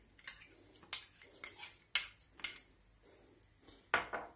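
A spoonful of washed rice goes into a pot, heard as faint scattered clinks of a metal spoon against cookware, several light taps spaced irregularly over a few seconds in a quiet kitchen.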